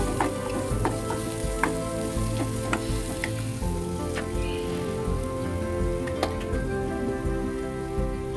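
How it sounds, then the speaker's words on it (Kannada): Coriander sizzles and crackles steadily in oil in a pan, with occasional sharp pops and light stirring scrapes, close and continuous. "ಅದನ್ನು ಕೂಡ ಚೆನ್ನಾಗಿ ಫ್ರೈ ಮಾಡ್ಕೊತೀನಿ ನಾನು"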